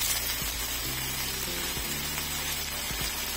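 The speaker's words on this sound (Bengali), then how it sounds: "পালং শাকগুলোকে আমি মিহি কুচি করে নিয়েছি এবং চুলায় গরম হতে দেওয়া তেলে আমি দিয়ে দিচ্ছি" Finely chopped spinach fries in hot oil with a soft, even sizzle and a few faint clicks and taps, close by and fairly quiet, with no one talking.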